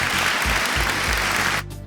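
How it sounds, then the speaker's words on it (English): An audience breaks into dense, loud applause with low thumping underneath, the clapping running steadily for under two seconds before cutting off abruptly. "I'm gonna give myself a round of applause"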